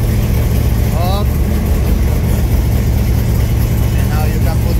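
Alumacobra car engine idling with a constant low drone, close and loud, with a couple of faint chirps above it.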